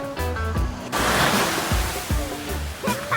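Ocean surf breaks at Walls in Waikiki, with a sustained wash of rolling waves close by and a few low thumps, no voices present.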